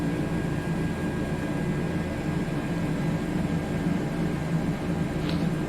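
A Bell 407 helicopter in a flight simulator game, on a scenic flight over Katherine (Nitmiluk) Gorge, gives a loud, constant, dense engine and rotor drone that stays steady throughout, with no talk.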